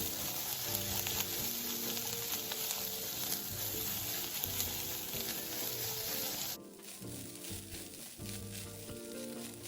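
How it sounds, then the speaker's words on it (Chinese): Rice and egg stir-fried in a wok over high heat, a loud steady sizzle with scraping and tossing that drops briefly quieter near the end, then continues in bursts; no talking. "炉转大火拌炒"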